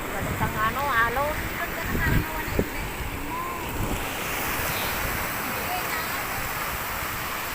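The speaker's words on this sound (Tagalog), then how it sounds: "Malakas po alon, oh. Kita nyo." Strong ocean waves surge and wash loudly and continuously against the shore, with wind buffeting the microphone; voices chatter briefly near the start.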